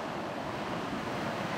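Rough sea waves crash on Alkjakji pebble beach, a dense, continuous roaring surf that stays loud and steady, with no voices.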